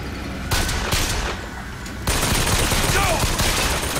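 Automated turret gunfire in BioShock Infinite, sustained rapid bursts that cut in abruptly and continue loud and close, with brief gaps between volleys.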